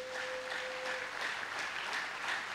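Church congregation applauding and cheering to acclaim the Lord during a French-language worship service, a steady wash of clapping from a crowd that holds an even level throughout, with a sustained tone running under the first second.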